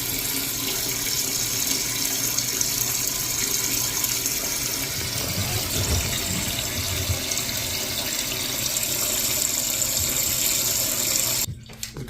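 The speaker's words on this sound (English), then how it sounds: "So let us flush and see if everything is working fine." A toilet that was just repaired to stop it running is flushed and its tank refills. Close, steady rushing water runs for about eleven seconds, then cuts off abruptly, with no talking.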